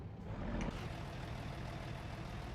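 A pickup truck towing a large boat idles with a low, steady rumble as it pulls over, close and continuous for a couple of seconds with no talk.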